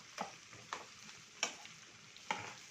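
Rice sautéing in a pan gives off a soft sizzle, broken by four short scraping stirs spaced unevenly. The sound is fairly quiet and close, with no talk.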